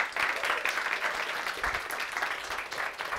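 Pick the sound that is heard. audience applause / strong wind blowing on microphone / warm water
audience applause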